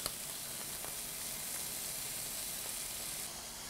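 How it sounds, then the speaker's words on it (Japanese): Ginger and burdock root sizzle in hot salad oil in a frying pan, a soft steady frying hiss with faint stirring, no talk. "フライパンにサラダ油を温めたら、生姜を加えて軽く炒めていきます。"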